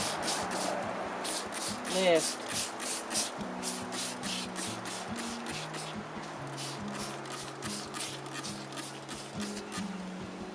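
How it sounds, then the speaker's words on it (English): Repeated short hissing bursts of a spray bottle spritzing garden plant leaves with oil, again and again at a steady pace, close by, with a person talking throughout. "And now I'm going to spray every leaf"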